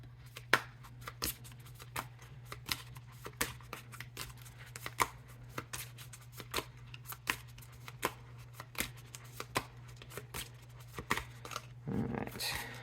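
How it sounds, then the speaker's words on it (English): Tarot cards being shuffled in a steady run of quick, crisp riffles and flicks, fairly close, with a low constant hum underneath and a brief rustle near the end. "So let's get one more good shuffle"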